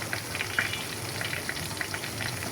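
An iftar item fries in a home pan, a steady moderate sizzle with small crackling pops scattered throughout.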